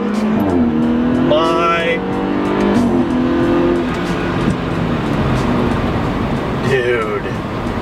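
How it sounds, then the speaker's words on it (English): A tuned BMW car with an aggressive, louder exhaust revs and shifts gears, engine tones climbing and dropping steadily under excited voices talking throughout. "The exhaust definitely sounds louder, especially when I'm switching gears."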